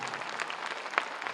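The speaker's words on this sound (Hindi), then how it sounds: "एक बार खड़ा होके पूज्य महाराज जी खातिर गड़गड़ा के ताली होके के चाहिए" A large crowd at a Chief Minister's youth entrepreneur development program event in Gorakhpur claps. The applause is brief, dense and steady, at moderate loudness.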